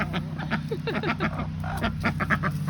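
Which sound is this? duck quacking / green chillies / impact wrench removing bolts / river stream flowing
duck quacking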